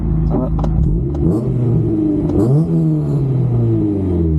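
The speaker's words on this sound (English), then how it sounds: "Might do a rev up or two at the lights." A Honda CRX 1.6 with a D16A9 engine and modified exhaust rumbles loudly up close, its pitch rising and falling as it revs, steady and continuous throughout.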